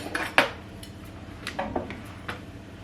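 A metal knife scraping sponge cake batter off a wooden spoon into a piping bag: several sharp, close clicks and scrapes in irregular bursts, with quieter handling noise between them.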